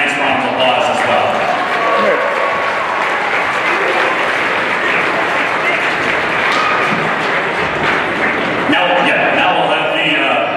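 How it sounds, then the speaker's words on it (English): Loud, continuous crowd applause in a gym for players' parents at a Marshfield versus DC Everest boys basketball game, a thick clapping roar with a voice briefly audible near the end. "Let's please give those parents a nice round of applause as well."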